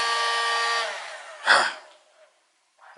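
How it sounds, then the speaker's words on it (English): A heat gun used while installing Kilmat sound deadener in a van blows with a loud, steady whine for about a second before winding down, followed by a breathy burst and then near silence. "Dadgum heat gun. Makes a racket I'm about tired of hearing."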